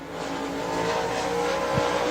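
A race car is heard during qualifying at Rome Speedway as a loud, steady engine drone with rising harmonic tones. It pushes through as the car goes by, with a brief low thump near the end and no talk.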